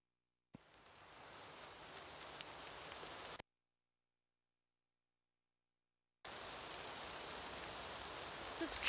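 Tropical rain in Shanghai pours down in a steady hiss that drops out completely for a few seconds, then returns at the same even, close, constant intensity.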